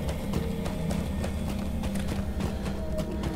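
Rapid, rhythmic hoofbeats from a goat mount galloping in the Lord of the Rings Online game, steady and close, laid over a dense bed of in-game music and ambience with no talk.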